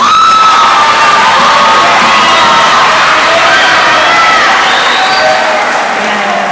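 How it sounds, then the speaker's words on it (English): A loud crowd at a middle school awards day cheers and claps for fifth graders, with children shouting and whooping over continuous applause that stays strong throughout. "Let's give them a round of applause"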